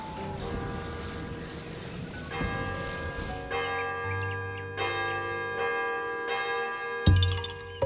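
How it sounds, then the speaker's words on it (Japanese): A bell rung in the video game The Legend of Zelda: Tears of the Kingdom, with sustained ringing tones that repeat several times over soft game music, then a sharp bright strike near the end. "鐘、鳴らさずにはいられない。"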